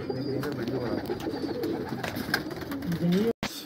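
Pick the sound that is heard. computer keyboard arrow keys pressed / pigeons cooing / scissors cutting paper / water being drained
pigeons cooing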